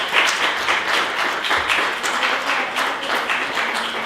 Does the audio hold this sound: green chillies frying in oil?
no